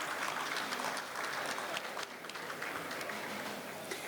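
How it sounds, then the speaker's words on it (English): An audience applauds at the official opening of the Radisson Blu Arboretum hotel in Nairobi, Kenya, a sustained wash of many hands clapping that swells and then eases slightly. "They deserve a huge round of applause,"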